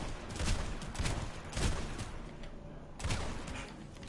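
Repeated shotgun blasts from a sci-fi shooter, Planetside 2, booming in a loose rhythm of about five shots roughly half a second apart, loud and close with no talking.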